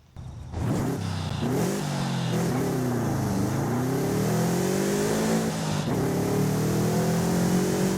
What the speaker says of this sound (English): now we get to go and take a listen to this wonderful EJ20 raw